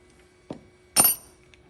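A metal engine guard clamp comes off with two short knocks: a dull tap, then a brighter metallic clink about half a second later, with near silence around them.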